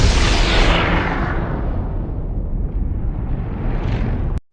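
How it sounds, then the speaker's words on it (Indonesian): A big explosion from the film Predator: Badlands erupts as a loud roaring blast that rolls and rumbles for about four seconds, then cuts off abruptly. "Kalis membeku dan meledak."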